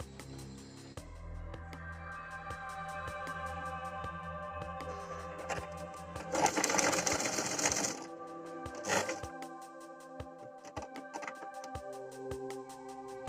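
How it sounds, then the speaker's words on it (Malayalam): A sewing machine stitches a side slit in fabric with a rapid, even mechanical patter, running steadily with brief surges and short clicking pauses, fairly quiet and close. "എന്നിട്ട് നീളനെ സ്റ്റിച്ച് ചെയ്ത് പോരാ"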